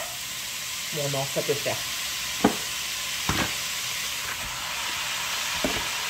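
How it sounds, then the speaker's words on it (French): Meat for a carbonnade searing in a hot pan, a steady broad sizzle and hiss throughout, close, with a few short clicks and knocks and brief speech near the start. "Là, du coup, je vais augmenter le gaz. Et je vais mettre ma viande."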